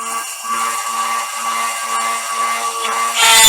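Power drill boring stress holes into a bell held by hand, a steady high whine running continuously with a faint low hum pulsing underneath, rising in intensity at the end.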